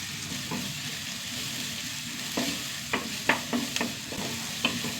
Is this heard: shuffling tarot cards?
no